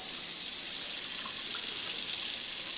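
A tap runs steadily, warming water for a rescued turtle, a continuous close hiss of flowing water filling a sink with no voices.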